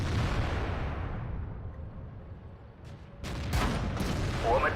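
An IS-2 tank cannon fires in World of Tanks on the Ruinberg map, with a short broadband boom and crack past the middle of the clip over a steady low battle rumble.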